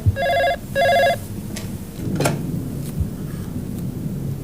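An office desk telephone rings in two electronic bursts at the start, followed by quieter handling sounds and a short rustle.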